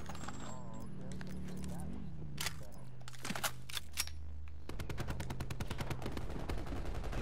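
Gunfire in Call of Duty Black Ops 4, single shots followed by a rapid automatic burst, loud and close, mixed with game sounds while a player talks.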